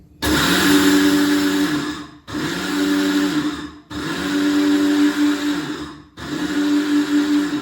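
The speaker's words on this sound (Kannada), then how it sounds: "ಮಿಕ್ಸಿ ಸೌಂಡ್ ಜಾಸ್ತಿ ಬರುತ್ತೆ ಅಂದರೆ ತಲೆ ಕೆಡಿಸ್ಕೊಂಡ್ಬೇಡಿ" A kitchen mixer grinder runs in four loud bursts, each a steady high whine with a hard edge as it grinds ingredients to a coarse, semolina-like powder, with short silent gaps between pulses.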